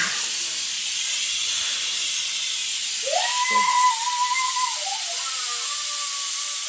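A pressure cooker releases a steady broadband hiss of escaping steam, with a rising whistle tone breaking in partway through and holding for a few seconds.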